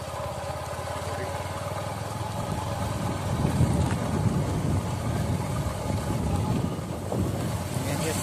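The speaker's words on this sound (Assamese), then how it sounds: "আমি আহি আছোঁ বাইকত।" A motorcycle rides along beside an airport field, its engine a steady low drone under heavy wind rush against the microphone that persists throughout.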